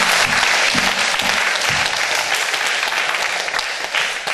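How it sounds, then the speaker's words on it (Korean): Loud, dense applause fills an evening revival service as the congregation claps steadily without a break, with a low murmur of the crowd beneath it. "그 하나님께 성령께 영광과 박수 한번 드리시겠습니다."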